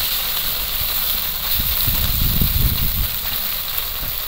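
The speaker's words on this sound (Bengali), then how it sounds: "কড়াইতে আবারও তেল দিয়ে দিলাম। এবার এই যে দেশি পুঁটিগুলো সব ভেজে নেবো আগে।" Small local puti fish fry in hot oil in a kadai, a steady close sizzle and hiss running throughout with a denser crackling burst in the middle.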